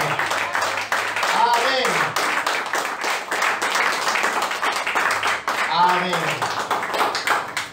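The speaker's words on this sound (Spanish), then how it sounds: "Démosle fuerte aplauso a nuestro Señor Jesucristo." Church congregation clapping in a strong, sustained round of applause during a worship service, dense and continuous throughout, with voices calling out over the clapping.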